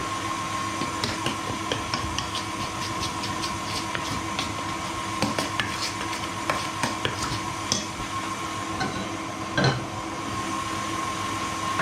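A spoon works a mixture around a pan to break up lumps, making steady scraping and clicking strokes close by throughout.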